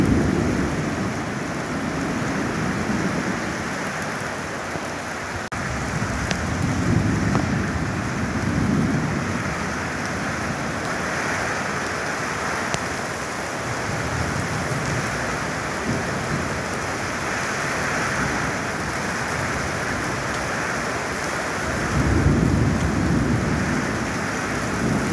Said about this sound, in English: You can see all the rain coming.